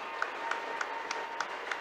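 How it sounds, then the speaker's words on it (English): The visitor-side crowd at a Friday-night high school football game, Central Dauphin East at Chambersburg, cheers after a touchdown: steady crowd roar with rhythmic clapping accents, heard from a distance in the stands. "crowd's loud here on the visitor side"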